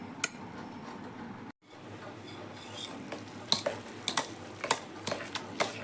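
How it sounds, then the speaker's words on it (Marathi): A spoon stirs clarified butter cream in a pot while homemade ghee is made, giving light ticking clinks against the metal over a soft simmering background, with the knocks growing more frequent toward the end. "आणि नुसतं चमच्याने हलवणार आहे"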